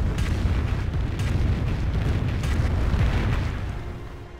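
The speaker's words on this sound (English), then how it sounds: "That was a good Calliope barrage, so that was great." Rapid Calliope rocket barrage in a 3v3 match on the Punkville map, a dense, continuous roll of loud overlapping booms and blasts for several seconds, slowly fading near the end.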